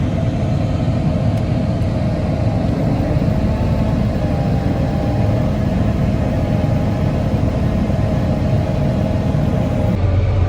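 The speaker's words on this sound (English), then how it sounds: "what we did there is we went out to the grass to run the auger a little bit while we had both those shields off" A combine harvester auger runs with its shields removed, giving a loud, steady mechanical drone and engine hum that holds constant throughout without talk.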